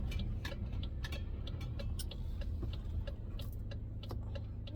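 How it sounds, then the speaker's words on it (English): Road traffic passes outside, a faint, steady low rumble of engines heard from indoors, with scattered light ticks and clicks over the top. "I'm surprised there's traffic right now"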